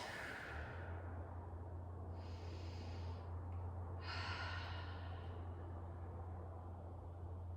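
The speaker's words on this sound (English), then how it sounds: "Big breath in and out." Deep breathing during a yoga hip-opener and strength flow: a slow, airy inhale and a long exhale, close and fairly soft, over a steady low hum.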